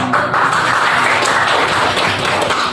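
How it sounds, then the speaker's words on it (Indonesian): A classroom of students claps together in sustained, dense applause, loud and steady throughout with no talk over it. "jadi tepuk tangan dulu"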